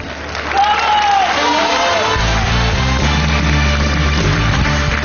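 A studio audience at a televised singing competition applauds and cheers, loud and sustained, with a musical bed rising beneath the clapping partway through.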